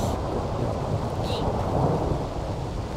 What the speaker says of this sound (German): Also der Donner ist wirklich sehr, sehr interessant und laut.